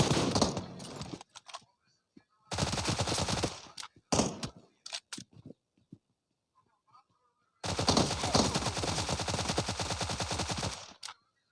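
Machine gun bursts and cover fire in PUBG, several loud, rapid rattling volleys separated by silent gaps, with a long sustained burst near the end, close and unaccompanied by talk.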